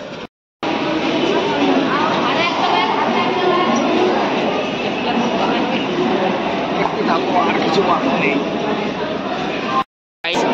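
Inside the busy Howrah railway station, a train rumbles and clatters in a continuous loud roar, with crowd chatter and voices mixed underneath. The sound cuts out briefly at the start and near the end.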